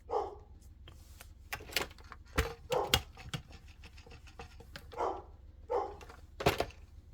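Several house dogs bark in scattered, sharp bursts, some close and loud, others softer, with short pauses and a few yips between them.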